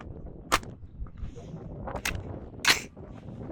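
Three sharp gunshots from an unsuppressed 9mm pistol firing 147 grain ammunition crack out singly at uneven intervals, fairly distant and faint, with quiet murmuring between them.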